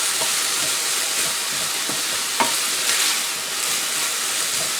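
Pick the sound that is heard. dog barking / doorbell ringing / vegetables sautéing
vegetables sautéing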